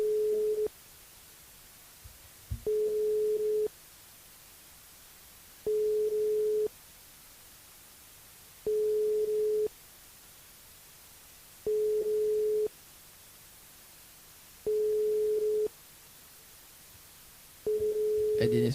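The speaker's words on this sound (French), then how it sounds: "Sonnerie." Telephone ringback tone during a live radio call-in show, a steady tone repeating in regular one-second bursts with gaps between, about six cycles, clear and alone over faint background hiss.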